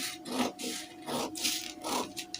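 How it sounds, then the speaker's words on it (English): Fabric being trimmed with scissors while making a lace-up corset: three or four close, rasping cuts in an uneven rhythm, with no talking. "here I'm going to trim out this excess that is here now"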